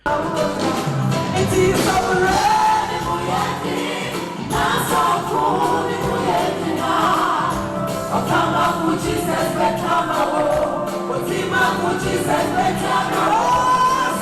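A gospel concert crowd cheering and shouting as the singer takes the stage, a dense, steady roar of many voices with rising whoops over about fourteen seconds.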